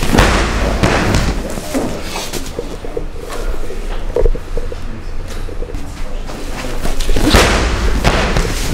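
A grappling dummy is slammed onto a gym floor during a suplex, giving heavy, dull thuds: one near the start and a louder one around seven seconds, over steady room noise.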